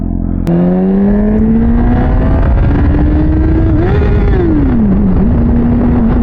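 A motorcycle fitted with a Translogic QSXI quick shifter and Domino XM2 quick-action throttle revs loud and close, its engine pitch climbing steadily, then dipping and recovering through quick gear changes.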